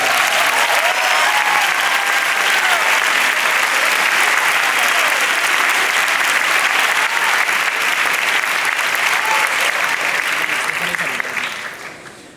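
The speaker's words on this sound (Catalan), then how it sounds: "permeteu-me que faci un agraïment molt especial perquè al final són els que us acompanyen dia a dia, als vostres professors i professores. Un aplaudiment per ells." A graduation ceremony audience applauds its teachers with sustained, dense clapping filling the hall for about eleven seconds before it tapers off and fades at the end.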